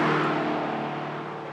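Electric four-door Dodge Charger Daytona heard from inside the cabin, its synthetic chambered exhaust roaring loud and full, then easing off slightly as the drone continues, with no speech.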